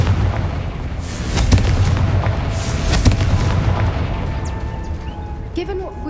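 A Confringo blasting spell explodes in the Hogwarts Legacy game, a heavy booming burst over dense rumbling low-end, with sharp cracks recurring near 1.5 and 3 seconds amid continuous loud battle noise.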